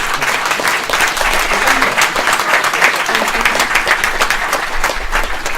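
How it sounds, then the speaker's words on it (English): A round of applause from a conference crowd at a developer talk, many hands clapping briskly and close for several seconds at a steady, lively intensity. "Can we have like a round of applause?"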